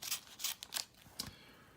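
A blade slices open a shipping package with several quick scratchy strokes at close range, followed by a softer cut and then quiet.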